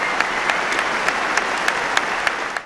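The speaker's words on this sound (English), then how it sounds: "A moment of applause by England and Australia's rugby players at Twickenham" England and Australia's rugby players and the crowd at Twickenham stadium applaud together, a dense, steady wash of clapping that holds level throughout before cutting off abruptly at the end.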